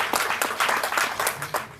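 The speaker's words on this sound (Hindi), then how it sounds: "माननीय BL गौड़ साहब, आप ताली से अभिनंदन करें डॉक्टर BL गौड़।" An audience at an award ceremony and book launch claps in a dense burst of applause to welcome Dr. BL Gaur, many hands close and loud for under two seconds.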